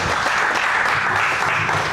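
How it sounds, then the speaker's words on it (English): An audience at a creative storytelling talk applauds before the session, a dense, steady wash of clapping filling the room, loud and continuous throughout. "Thank you for all the applause before we even start the session"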